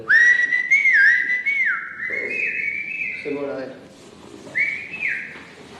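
A person whistles to call someone in a housing estate, loud, sliding melodic whistles close by, with a voice briefly speaking between them.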